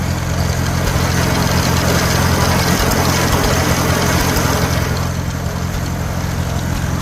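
An antique tractor engine runs steadily in second gear in an open field, a loud, close, low rumbling drone that holds even throughout with no talk.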